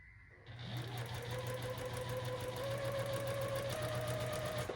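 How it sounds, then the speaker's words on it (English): A sewing machine starts after a brief pause and runs continuously at a steady, fast pace, stitching a quilted scarecrow leaf block. Its whirring motor hum and rapid needle rhythm stay close and loud. "stitch a little over to the side of that drawing line"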